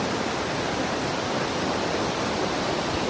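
A waterfall pours beside a river in Sikkim, giving a steady, dense roar of rushing water that holds even and loud throughout with no voices.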